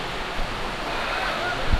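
A waterfall roars in an outdoor gorge as a dense, steady, loud rush of falling water, continuous and close, with no voices.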